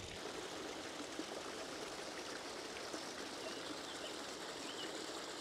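Small waterfall on a mountain creek among heather-covered hills, a steady broadband rush of falling water at moderate distance, continuous and unchanging with no talk.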